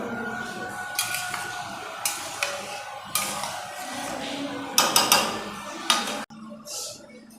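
A spoon clinks and scrapes repeatedly against a pan as water is stirred into chickpea dal, with soft bubbling and sizzling underneath.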